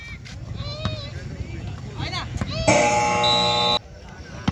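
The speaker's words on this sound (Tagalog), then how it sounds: "Buzzer na lang ang maririnig nyo." A basketball game buzzer in an amateur court game sounds one loud, sustained electronic tone lasting about a second, cutting through the surrounding court noise and voices of people talking before and after.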